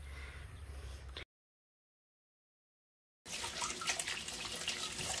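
Water runs from a tap over freshly picked garden vegetables being washed, a steady rushing splash at moderate level before and after a two-second gap of silence.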